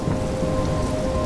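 A thunderstorm with steady rain in Life is Strange, a dense constant hiss of rainfall on surfaces with a faint steady tone running underneath, heard alone and fairly loud throughout.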